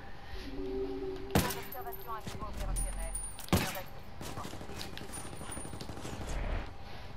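Gunfire in the tactical shooter Ghost Recon Wildlands: two sharp, loud shots about two seconds apart, over a steady bed of game ambience with faint voices.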